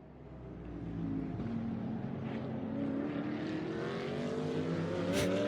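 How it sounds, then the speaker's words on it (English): Race car engine noises in the video game Fortnite, a GT race sound: a steady, rising engine drone with faint whooshing, heard alone. "Race car noises."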